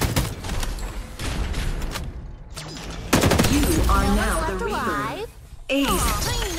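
Gunfire in the battle video game Farlight 84: rapid bursts of shots and mechanical clatter, with character voices calling out between them.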